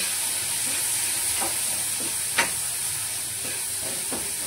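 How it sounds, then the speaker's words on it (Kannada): Spices with turmeric roast and fry in ghee and oil in a pan, a constant broad sizzling hiss with a few soft spoon scrapes and one brief sharp clink, nearby with no speech. "ಅದೆಲ್ಲ ಸ್ವಲ್ಪ ರೋಸ್ಟ್ ಆಗಿ ಫ್ರೈ ಆಗಬೇಕು"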